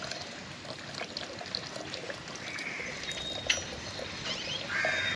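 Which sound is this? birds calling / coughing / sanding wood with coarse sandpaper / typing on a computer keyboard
birds calling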